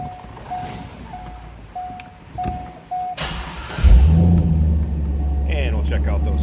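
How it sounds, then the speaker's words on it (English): A 1998 Chevrolet Corvette Indy Pace Car convertible with a Borla exhaust cranks and fires up partway through, settling into a loud, deep, steady idle rumble after a few quiet beeps and clicks. "Let's go ahead and start this up so you can hear this car run."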